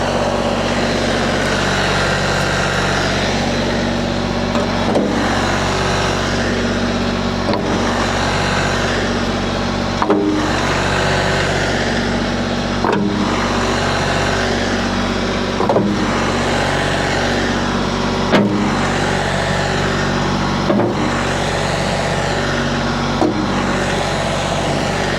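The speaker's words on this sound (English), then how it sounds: "I'm gonna go ahead and grab the tractor" A diesel engine idles steadily up close, a low continuous rumble with faint periodic clunks repeating every few seconds.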